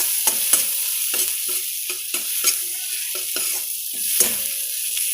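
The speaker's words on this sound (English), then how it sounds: "Now, we'll just dry roast the spices." Red chili powder and cumin powder dry roasting in a pan for masala Maggi, heard as a steady soft scraping and stirring with faint crackle and repeated brief clicks of a utensil against the pan, with no talking.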